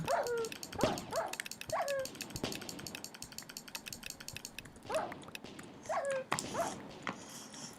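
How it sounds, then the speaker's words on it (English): Dog whimpering in Minecraft with the Better Than Wolves mod, a series of high, thin whines and yelps in short clusters, repeated several times over a low mechanical background. "The dog cries, you know."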